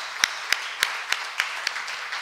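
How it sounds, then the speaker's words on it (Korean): A church congregation in Paris claps during Sunday worship, about eight sharp, even, fairly loud claps in a slow steady rhythm, each standing out clearly against quiet. "우리 하나님 앞에 영광의 박수를 올려드리겠습니다"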